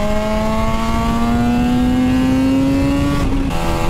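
Suzuki RG500 two-stroke motorcycle engine revving hard while ridden, a loud close whine rising steadily in pitch, then a brief gear-change dip before pulling on again.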